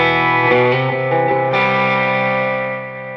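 A Line 6 DT50 guitar amp with its drive and preamp volume cranked, loud distorted sustained guitar chords ringing out with a fresh strum partway through, heard alone.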